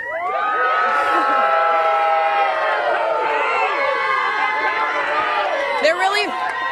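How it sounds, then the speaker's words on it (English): Spanish Fort football fans cheer and shout at a tailgate outside Bryant-Denny Stadium, a loud sustained crowd roar of many voices with whoops and yells throughout. "we have a bunch of fans here cheering"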